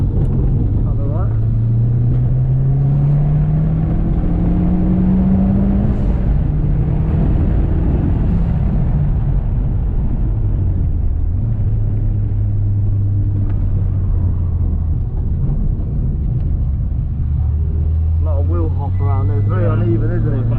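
A Mitsubishi Lancer Evolution X driven at the limit in drifts, engine drone rising and falling through the revs from inside the cabin, with constant road rumble and someone talking over it.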